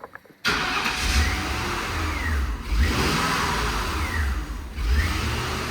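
Lincoln Mark VIII V8 with a faulty idle air control valve cranks and catches abruptly, then settles into a loud, uneven idle with periodic surges and dips, close up, no talk.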